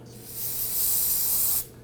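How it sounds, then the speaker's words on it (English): A short, steady hiss of an aerosol can of solvent spraying for about a second and a half, close up, then cutting off abruptly. "go ahead and spray that down with some spray solvent"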